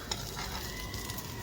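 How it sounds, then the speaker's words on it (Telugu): Tempering for gongura chutney sizzles steadily in a pan, a soft, continuous frying hiss with light stirring scrapes, faint and close, with no talking. "మనం ఇప్పుడు ఇదే ప్యాన్లో గోంగూర పచ్చడికి తాలింపు అనేది వేసుకున్నాము."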